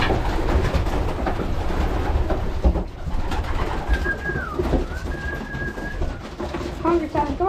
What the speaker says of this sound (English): the birds are ready to be let out